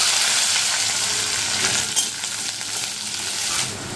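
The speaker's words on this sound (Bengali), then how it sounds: "এদিকে আমার এখন 5 ফোড়ন দেবো" Panch phoron, the Bengali five-spice mix, tempering in hot oil for a potato and ridge gourd dish, a loud, dense crackling sizzle that holds steady and close throughout.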